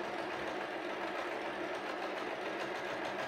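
An Empisal Expression 889 sewing machine stitches steadily, its motor running in a continuous close-up whir with a fine rapid needle rhythm throughout.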